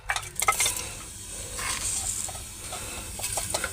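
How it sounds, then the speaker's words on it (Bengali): Panch phoron whole spices hitting hot oil for vegetable chop, giving a crackling sizzle with a few sharp pops and light stirring scrapes at close range, steady throughout with no talking. "তেল গরম হয়ে গেছে, আমি এবার একটু এর মধ্যে 5 ফোড়ন দিয়ে দিলাম।"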